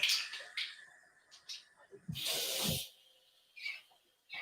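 A kitchen tap runs for washing dishes, giving a soft, irregular hiss and splash with short bursts and one steadier stream, fairly faint with small clinks around it.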